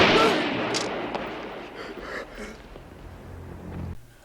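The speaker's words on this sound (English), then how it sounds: "On his way back to the MedTech mobile, there is an explosion." An explosion from the film Hell Comes to Frogtown: a sudden loud burst at the start, then a rumbling debris-filled decay that fades over several seconds.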